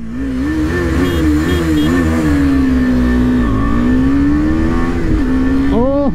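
KTM Adventure 250 and Suzuki V-Strom 250 motorcycles rev hard and accelerate in a drag race, a loud, close, rising engine drone climbing through the gears with brief dips at the shifts.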